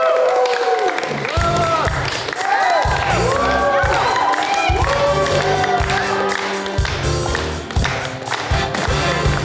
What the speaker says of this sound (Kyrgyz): Адилет менен Мадинаны кол чабуулар менен тосуп алалы достор